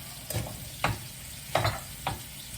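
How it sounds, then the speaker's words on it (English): Chopped onion tossed into a pot and stirred, giving four short scraping, sizzling bursts about half a second apart against a low kitchen background, close and fairly loud. "We're just going to cut it a little bit rough here, and we're going to throw it in the pot."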